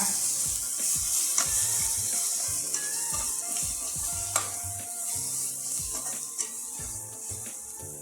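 Ginger garlic paste sizzles steadily in hot oil over a medium flame while preparing a pepper mutton spleen fry, a constant bright frying hiss with occasional scraping and clinks of a spoon.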